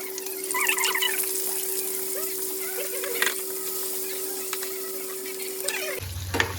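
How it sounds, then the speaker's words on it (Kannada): Paneer pieces fry lightly in hot oil, giving a steady close crackling sizzle with scattered pops, and a constant low tone beneath it until it cuts off near the end. "ಆಯಿಲ್ ಒಂಚೂರು ಬಿಸಿ ಆದಮೇಲೆ ಪನ್ನೀರ್ ಪೀಸಸ್ ಹಾಕಿ ಲೈಟಾಗಿ ಫ್ರೈ ಮಾಡ್ಕೋಬೇಕು"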